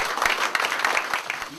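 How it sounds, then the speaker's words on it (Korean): Audience applause at the opening ceremony of a party office in Yeouido, Seoul, a brief burst of crowd clapping, loud and fairly close, with a voice faintly heard beneath it. "큰 박수로 민주당의 새 얼굴을 격려해 주시기 바랍니다"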